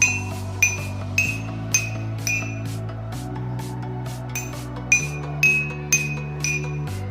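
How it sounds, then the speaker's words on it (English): A metal spoon taps glasses one after another in a slow, even rhythm, each strike ringing briefly at a slightly different pitch. "I will use this metal spoon to tap each glass."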